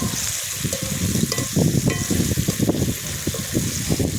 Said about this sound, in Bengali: হালকা একটু ভেজে আবার তুলে নেবো